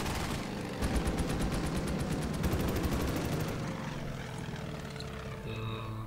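Aircraft and machine gun fire in the video game Order of Battle, a Battle of Britain air fight: a loud engine drone with rapid rattling bursts of gunfire, dense and continuous.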